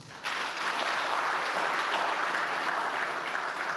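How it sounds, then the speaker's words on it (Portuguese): Sudden, sustained applause breaks out from participants at the close of a CSIRT training session in Mozambique, honouring the consultants; the clapping stays full and even throughout. "queria mais uma vez pedir uma salva de palmas aos nossos consultores"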